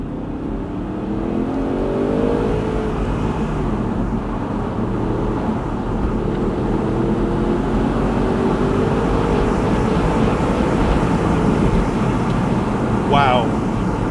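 A 2014 Audi R8 Spyder V8 with S tronic and quattro all-wheel drive accelerates hard, its engine note climbing steadily under loud, constant road and wind roar.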